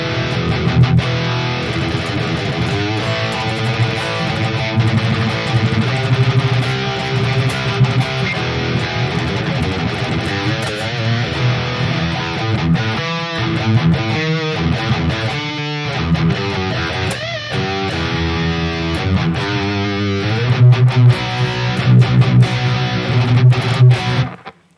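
Distorted rhythm guitar from a Jackson JS32 King V through a Harley Benton DNAfx Git multi-effects JCM800 preset with reverb switched off, dense chugging chords played continuously and loud, a few short breaks near the middle, no voice.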